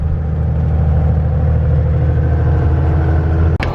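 A farm truck drives out to a muddy field, its engine a steady, loud rumble with continuous mechanical clatter and whir, close by and uninterrupted, ending with a brief sharp knock.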